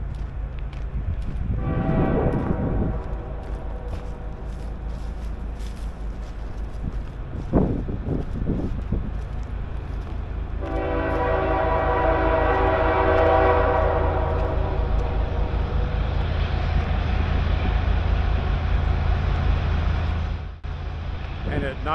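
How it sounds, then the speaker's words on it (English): Train passing a campsite on the way toward Banff National Park, a steady rumble building and holding with a long, loud horn blast sustained for about ten seconds before fading. "And just for demonstration, here comes the train."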